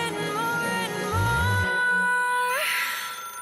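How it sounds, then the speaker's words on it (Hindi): A melodic electronic phone ringtone plays in a K-pop music video, a steady run of clear tones that step up and down in pitch, with a low thump partway through. "फोन आ गया"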